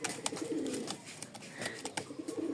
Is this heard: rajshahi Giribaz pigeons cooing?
yes